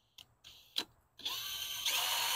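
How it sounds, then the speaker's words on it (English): A few short mechanical clicks and bursts, then a power drill whirs up and runs steadily, its pitch rising slightly as it bites into the plastic of a quail feeder. "Now what I want to do is just make a drill on this"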